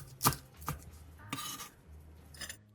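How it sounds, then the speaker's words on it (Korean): A kitchen knife chops onion, carrot, Cheongyang chili and green onion on a cutting board, giving a few separate close knocks spread over a couple of seconds, quiet overall with no talking. "양파랑 당근을 한입 크기로 큼직하게 잘라주고 청양고추와 대파는 길게 어슷하게"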